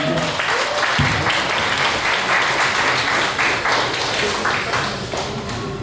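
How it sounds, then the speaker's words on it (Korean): Wedding guests in a wedding hall applaud the bride and groom at the close of the ceremony, a loud, dense round of clapping that carries on steadily throughout. "우리 신랑 신부님 정말 고생 많으셨다고 한번 동의의 박수 한번 보내주시기 바랍니다"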